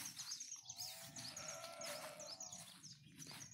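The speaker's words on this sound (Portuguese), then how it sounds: "Carneirinha berrando." A lamb bleats in a wavering, drawn-out cry outdoors in countryside beside a house, with many birds chirping steadily around it and a low rumble underneath.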